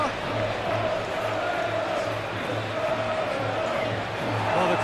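A football stadium crowd roars in approval after a defensive play at an England versus Brazil international friendly, a broad, sustained wash of distant cheering under a commentator's voice.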